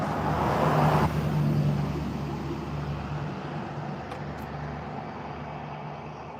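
A white truck drives past on a road, its engine and tire noise loud and close at first, then fading steadily as it moves away.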